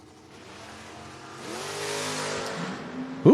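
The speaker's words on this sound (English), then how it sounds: "Ooh, got a drag race here." Footbrake drag race cars launching down the strip at an FRBR event, a distant engine roar swelling as they accelerate, then a louder burst near the end.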